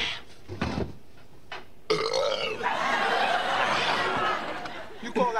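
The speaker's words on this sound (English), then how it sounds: "You call that a belch?" A loud, drawn-out belch rolls on for several seconds in a sitcom scene, preceded by short bursts of chatter and followed by laughter and talk from others in the room.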